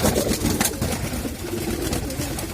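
Pigeons feeding from a tray at feeding time, with dense, continuous cooing and soft wing and pecking noise close by, steady and fairly loud throughout.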